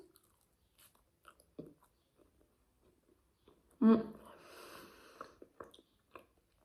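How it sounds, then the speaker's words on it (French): A bite into pizza crust from a pizza vending machine, one sharp crunchy bite followed by soft chewing, close to the ear, with brief faint sounds before and after. "On va goûter la croûte."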